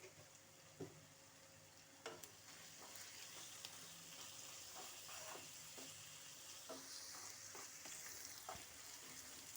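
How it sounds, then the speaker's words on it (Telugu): Onions sizzling in a pan with oil, a steady quiet frying hiss with occasional light clinks and stirring scrapes, no talk. "ఆనియన్స్ వేగినవి"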